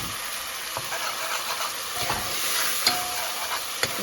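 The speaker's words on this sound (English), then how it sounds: "So it's frying up a little." Beef fries in very hot oil for a curry, giving a steady loud sizzle with occasional stirring clinks and scrapes of a utensil.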